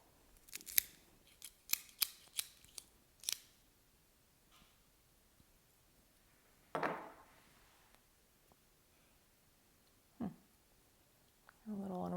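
Sharp snips and clicks from a cutter trimming a Davidoff Aniversario Special R cigar come in a quick cluster, close and crisp in a quiet room. A few scattered handling noises follow.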